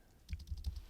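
A few quick, soft keystrokes on a computer keyboard, a short cluster of light clicks close by in a quiet room.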